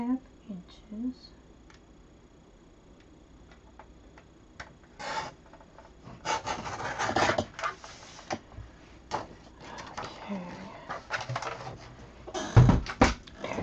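Paper strip cut to 1 1/2 inches for a snowman hat, the scissors or trimmer giving soft scraping and snipping rasps in short bursts, fairly close and moderate, with quiet pauses between strokes.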